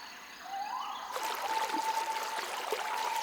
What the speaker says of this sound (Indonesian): Inilah tempat lahirnya Sungai Citandui, sumber kehidupan bagi jutaan orang di Jawa Barat dan Jawa Tengah.